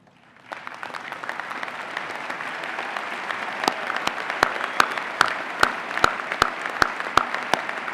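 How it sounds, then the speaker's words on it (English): Audience at a Northwest 2014 winter commencement applauds honors program graduates, clapping rising abruptly from silence into sustained, moderately distant applause with a few sharp nearby claps standing out rhythmically toward the end. "join me in applauding these outstanding students"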